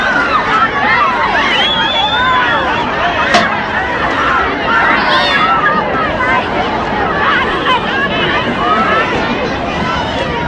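A dense crowd murmurs and chatters continuously around a president as people shake his hands in a Fort Worth, Texas parking lot in 1963, with overlapping voices and a loud, steady hubbub throughout.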